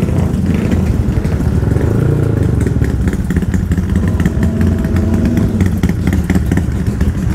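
Loud, continuous roar of a group of motorcycles on the Gia Bac mountain pass, engines idling and revving together up close with clattering mechanical noise throughout.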